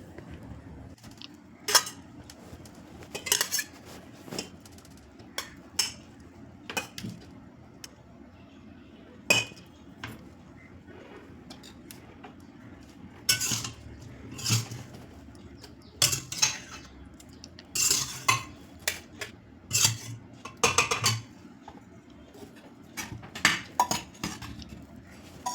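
Steel utensils and dishes clink and clatter while cauliflower masala and other food is packed into a lunch box, scattered sharp metallic taps and chinks at irregular intervals, close up, with a quiet room background.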